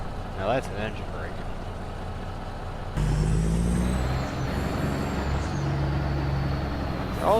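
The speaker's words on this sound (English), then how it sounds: "Now that's an engine brake." A CAT CT660 truck in American Truck Simulator uses its engine brake. After a short quieter stretch with a brief voice, a loud, deep rumbling engine roar sets in abruptly and holds steady to the end.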